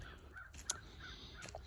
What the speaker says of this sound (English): the leaves rustling and crows calling